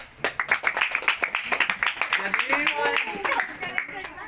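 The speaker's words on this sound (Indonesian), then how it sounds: "kita kasih aplaus dulu untuk Mira ya" Group applause in a classroom or meeting, a steady run of many overlapping claps lasting a few seconds, fairly close and loud, with voices murmuring underneath.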